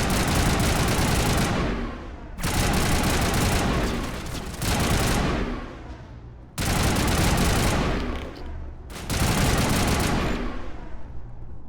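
Assault rifle fire in the video game Mass Effect: four long, loud automatic bursts separated by short gaps, each one sustained and close before cutting off sharply.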